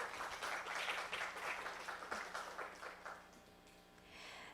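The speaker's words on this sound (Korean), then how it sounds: "발표를 해주신 이성산 대표님께 다시 한번 큰 박수 보내주시기 바랍니다" Audience clapping at a blockchain business forum after a talk on Web3, a faint, even spread of applause that tapers off toward the end.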